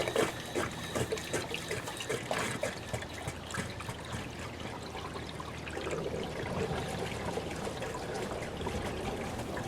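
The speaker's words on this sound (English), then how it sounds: "We're going to let this just gurgle and churgle." Pool filter backwashing, water gurgling and trickling through the filter and pipes, a steady close burble with bubbly fluctuations throughout and no speech.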